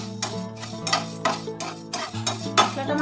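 Whole coriander seeds, cumin and eight to ten dried red chillies are dry-fried in a pan, with a spoon scraping and clinking in quick, uneven strokes against the metal over a soft tonal background.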